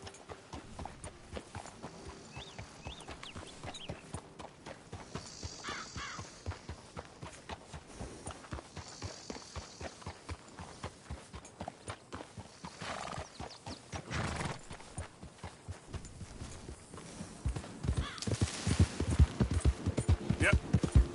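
Horse hooves clip-clopping in the Red Dead video game, a steady rhythmic plodding with a neigh along the way, growing louder toward the end, with a voice speaking over it.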